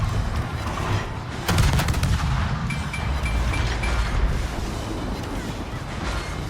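Deck guns of the IJN destroyer Akizuki, 100mm naval guns in a video game, fire in a sharp burst of repeated reports, with a strong boom near the start and more shots over a continuous rumble of battle noise.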